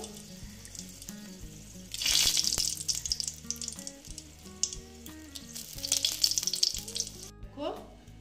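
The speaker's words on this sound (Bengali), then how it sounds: "তেলটা প্রায় গরম হয়ে গেছে। আমি না শুকনো লঙ্কা দিয়ে দিচ্ছি।" Dry red chilies dropped into hot mustard oil, a close crackling sizzle that surges then settles, with a steady tonal hum underneath, a second louder flare of sizzle later.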